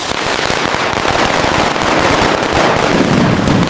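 Dense, rapid crackling bursts of firecrackers going off continuously and loudly, close by, with no pause.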